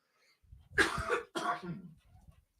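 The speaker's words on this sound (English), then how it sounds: "I apologize for my coughing" Two harsh coughs in quick succession, close to the microphone, with a brief pause between them and quiet before and after.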